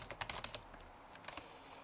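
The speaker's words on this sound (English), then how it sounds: "I'm just typing randomize" Quick, light clicks of typing on a computer keyboard come in two short bursts separated by a brief pause, close by with no talking.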